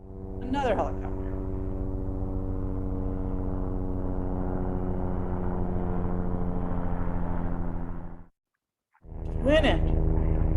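A single-engine helicopter passes with a steady, loud rotor drone and harmonic hum that cuts off abruptly, followed by a brief silence before another helicopter's loud whine begins.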